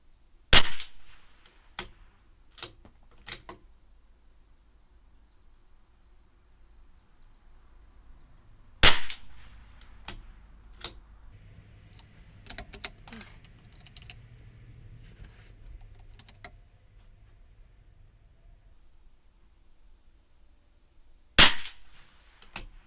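Sharp, isolated shots from a CZ 457 LRP .22 rifle with an IBI barrel during ammo testing crack out several times, spaced apart, with quieter clicks and handling noises between them and no talking.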